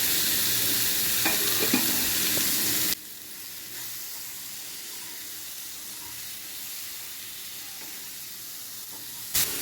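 Eggplant, capsicum and tomato sautéing in a pan give a steady close sizzle with some stirring. The sizzle is loud at first, then drops to a quieter hiss after about three seconds.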